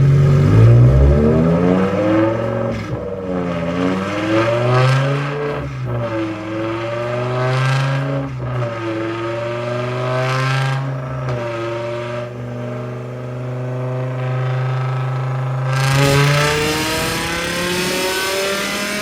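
A tuned BMW E60 M5 running E85 fuel, pulling hard on a chassis dyno: loud, close engine revving in long rising sweeps through the gears, with a brief drop and a final roaring climb near the end, no voices.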